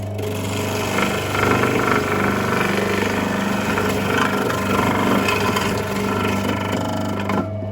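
A biltong cutter slicing dried meat gives a loud, steady mechanical drone with a constant hum throughout. No one speaks.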